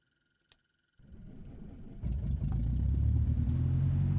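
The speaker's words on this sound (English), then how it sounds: "We start the engine." Scottish Aviation Bulldog piston aircraft engine starting in Microsoft Flight Simulator: a click, then a cranking rumble that catches and builds into a loud, steady propeller engine roar, heard alone.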